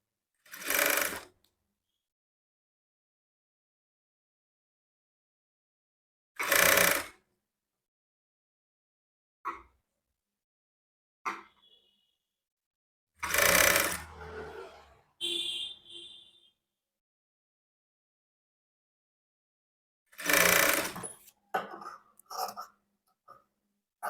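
A sewing machine stitches a blouse in short separate runs, each a loud whirring burst of a second or so, with quiet gaps and small mechanical clicks between them.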